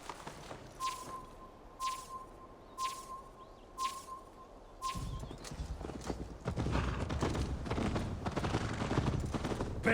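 Galloping horse hooves from Assassin's Creed Valhalla thud in a quick, driving rhythm, first spaced out alongside a repeating high tone, then growing denser and louder as the ride speeds up.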